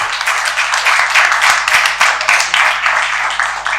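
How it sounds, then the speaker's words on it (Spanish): Audience applause fills a conference hall on corporate sustainability, a dense, steady wash of many hands clapping near and loud for about four seconds with no speech over it. "les pido por favor un aplauso para ustedes"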